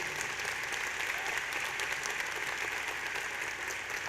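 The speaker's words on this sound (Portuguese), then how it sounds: "Queria pedir uma salva de palmas" Sustained audience applause fills a conference hall at the RD Summit 2017 marketing event, a dense, steady wash of many hands clapping at moderate distance, with no voices on top.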